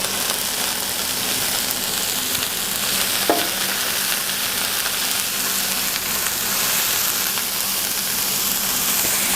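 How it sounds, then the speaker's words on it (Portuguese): Shredded cabbage sautéing in a hot pan, a steady close sizzle and crackle that carries on without pause, with a faint low hum underneath. "eu já vou colocar o repolho e vou refogar esse repolho"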